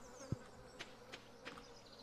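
Bees buzzing in the Stardew Valley video game, a faint, steady insect drone with a few soft clicks and taps mixed in, heard alone without talk.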